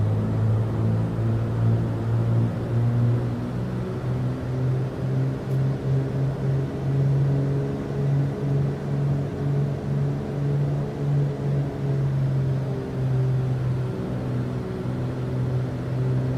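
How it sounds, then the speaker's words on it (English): Turbocharged aircraft engines heard from inside a small plane on approach to landing, giving a steady, loud, droning hum with a strong low tone that holds for the whole stretch, and nobody speaking over it. "Listening to those turbos spool is awesome."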